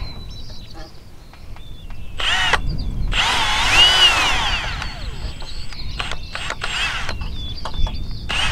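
A power drill bores holes for bolts in a trampoline net support pole, its motor whining and rising into a loud grinding stretch, followed by short bursts and clicks close by.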